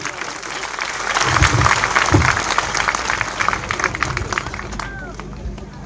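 A crowd at a community gathering breaks into loud, dense applause for Doctor Jagdishbhai. The clapping swells early, holds strong and then tapers slightly, with voices mixed into the noise.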